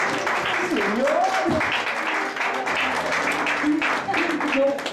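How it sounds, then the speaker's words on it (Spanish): A church congregation applauds during a Spanish-language sermon, a broad wash of clapping under a preacher's voice and other voices rising through it. "Den un aplauso al Señor."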